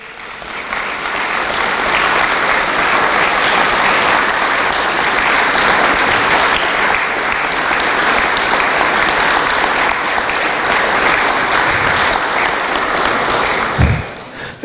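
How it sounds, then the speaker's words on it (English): Sustained loud applause from an awards ceremony audience, a dense steady wash of clapping that swells in and fills the room for over ten seconds before tapering off near the end. "Everyone give a hand for Melanie Flynn."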